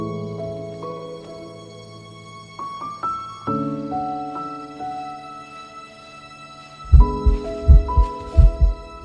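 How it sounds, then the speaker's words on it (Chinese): Heartbeat sound effect in a Chinese period costume TV drama: a run of five or six heavy, rapid low thumps enters near the end over soft sustained music. "我刚才听见了，你心跳得好快哦。"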